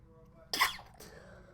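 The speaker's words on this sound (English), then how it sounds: "I'm gonna sneeze." A single short sneeze bursts out close to the microphone, followed by a brief fainter exhale against a quiet room background.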